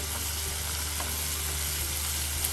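Papaya and bean pieces go into a spice paste frying in a pan for a tangy khalla fish curry, giving a steady, close, even sizzle with few distinct pops and no talking.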